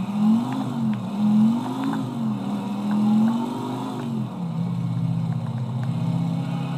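Niko Bellic's motorcycle cruising around Liberty City in a Grand Theft Auto game, a loud, close engine drone that rises and falls with throttle, then settles into a steadier tone, with no talk.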